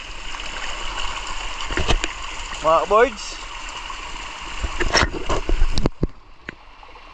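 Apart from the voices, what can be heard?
rushing floodwater from heavy rain downpour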